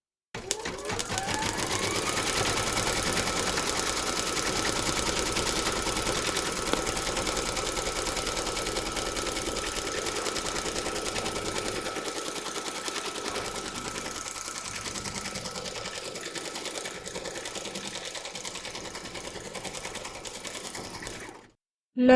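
An embroidery machine stitches the outline of a teddy bear's head in silver thread, running as a steady, close mechanical whir with a fast needle rhythm for about twenty seconds before stopping abruptly.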